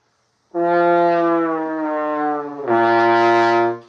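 A brass instrument holds one fingering while the player slowly bends the pitch downward from one harmonic toward the next, then jumps to a brighter, louder note near the end; a single sustained, close tone with no talking.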